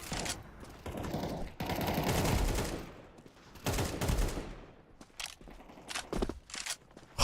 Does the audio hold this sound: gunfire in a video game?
yes